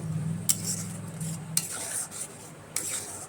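Cashew paste mixed with water in a pan, with a spoon stirring and scraping against the metal in a few distinct strokes over a faint simmer.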